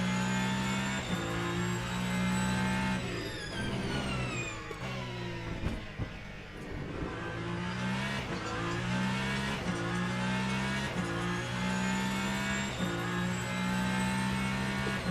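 A race car engine in the sim racing game Le Mans Ultimate at Imola revs and climbs through gears, with repeated upshifts, a dip while braking into a corner, then renewed acceleration, loud and continuous.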